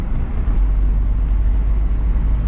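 A car drives steadily after the shift into fourth gear, its engine and road noise forming a continuous, even low rumble with no talk.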